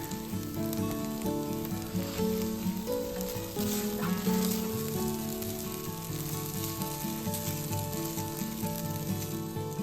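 Butternut squash risotto sizzles and bubbles in the pan as broth is added and stirred continuously, a steady close frying hiss with soft scraping, under faint background music and no talking.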